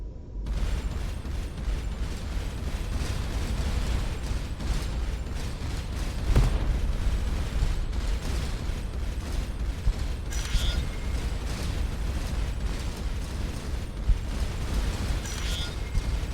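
Automatic weapons fire in the space game Starcom: Unknown Space as a continuous, dense rumble of blasts and mechanical clatter that holds at a steady loudness throughout.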